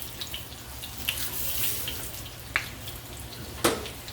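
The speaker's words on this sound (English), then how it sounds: "And just let those fry up until they're toasted to your liking" Shredded beef zucchini boats frying in shallow oil, giving a steady soft sizzle with a few brief crackles and pops, one louder pop near the end.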